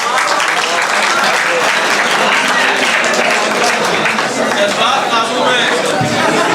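Hearty audience applause at a mushaira at Jamia Millia Islamia welcoming the poet Ahmad Latif, a loud, dense, sustained clapping mixed with crowd chatter from start to finish.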